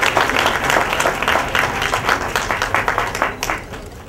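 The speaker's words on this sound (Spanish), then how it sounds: "Un fuerte aplauso, por favor." An audience claps steadily at a merit award ceremony for people with disabilities, dense and fairly loud applause sustained throughout with no talk.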